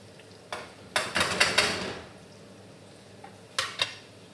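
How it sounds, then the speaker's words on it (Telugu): Potatoes frying in a masala mixture in a pan, heard as a soft steady sizzle with a few sharp scraping stirs clustered near the start and again near the end, no talk. "బంగాళదుంపలు కూడా వేగుతున్నాయి."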